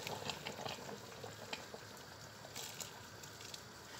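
About a kilo of onions frying in clear table oil in an ordinary pot, giving a soft, steady sizzle and crackle with occasional small pops, fairly faint and unbroken.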